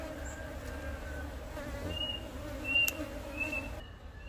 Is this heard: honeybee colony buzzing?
yes